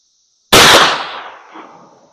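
A .410 shotgun fires a Mr. Hollow Point 160 grain slug loaded backwards: one sharp, loud close-range blast whose echo fades out over about a second and a half, with no talk.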